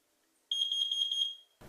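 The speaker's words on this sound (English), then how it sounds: "Carbon monoxide detectors sound at 4 beeps" A carbon monoxide detector's high-pitched electronic alarm tone sounds steadily for about a second, with faint pulsing, then cuts off, followed by a brief low rumble.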